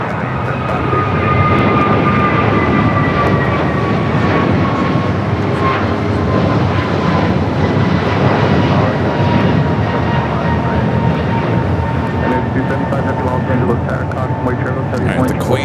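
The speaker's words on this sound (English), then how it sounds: "China Eastern 586 Heavy, runway 25 right at Foxtrot, clear for takeoff." China Eastern heavy jet taking off from runway 25 right at LAX, a loud continuous engine roar with a falling whine that fills the whole stretch, radio and voices talking underneath.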